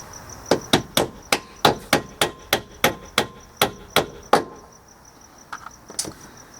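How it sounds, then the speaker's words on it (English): Around a dozen sharp metallic hammer taps in an even, quick rhythm, close and fairly loud, tapping a pin into a 2001 Toyota RAV4 front door hinge, then a pause and a few scattered lighter knocks. "grab your hammer, and you're just going to gently bang it down in there"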